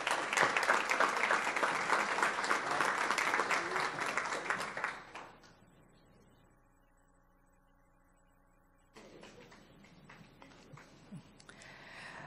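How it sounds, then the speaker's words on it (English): An indoor audience at a Palm Beach County board meeting claps loudly for about five seconds before the applause dies away into quiet room tone and faint hum. "Let's give them all a round of applause."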